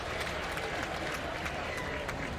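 A ballpark crowd at a Minnesota Twins versus Boston Red Sox spring training baseball game gives a player warm, steady applause, a dense wash of clapping from many spectators at a distance.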